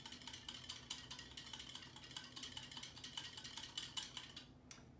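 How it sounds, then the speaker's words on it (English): A whisk beats salad dressing with pepper in a bowl, giving a quick, steady run of light metallic clicks and scrapes close by at low volume before it stops abruptly near the end. "And then we will whisk that together."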